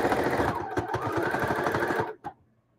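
Sewing machine stitching a flat cloth bag, a loud close rapid mechanical whir for about two seconds before stopping abruptly with a brief clunk.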